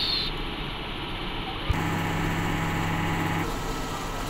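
A DTF printer runs a head clean and nozzle test, with a steady mechanical whir, a sharp click partway through, then a motor drone with a low buzzing hum that holds for a couple of seconds before easing back.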